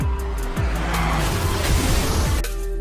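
In an action film scene, a speeding car roars past close by with screeching, skidding tires and engine noise that stays loud throughout.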